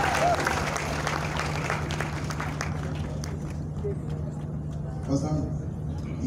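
A church congregation claps hands together in bursts of applause amid crowd noise, with a voice talking over the clapping throughout.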